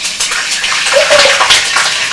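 A splash of water hits hot frying oil in a pan ready for crispy rice, setting off a loud, continuous hissing sizzle that holds for about two seconds with no talk.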